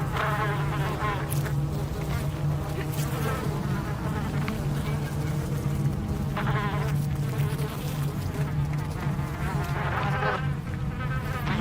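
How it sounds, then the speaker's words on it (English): Flies buzzing steadily in a video game set in Vice City, a constant insect drone running throughout with a low hum beneath, close and fairly loud, with no talking. "Usually when you hear flies buzzing like that"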